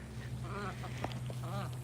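Ducks in a farm enclosure with horses quack in two short raspy runs, faint and somewhat distant over a steady low background hum.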